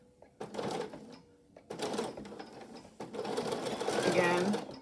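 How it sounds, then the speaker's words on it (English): A sewing machine back stitches over a pleat in a fabric face mask, whirring in three short close bursts separated by brief pauses. "And I back stitch over the pleat."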